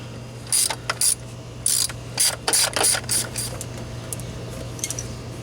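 Ratchet wrench working 10 mm bolts loose on a Jeep Wrangler YJ, quick bursts of metallic clicking in short irregular runs over a low steady hum, close and without talking.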